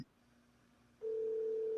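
A quiet hum gives way to a steady, continuous telephone tone that starts abruptly and holds at one pitch.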